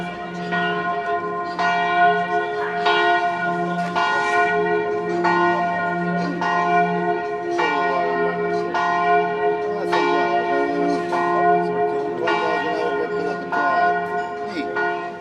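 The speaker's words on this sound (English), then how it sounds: "Just turned midday and the bells are going off." Church bells in the medieval hilltop town of San Gimignano ring at midday, loud and close, with steady repeated strikes over a sustained humming resonance, continuing throughout.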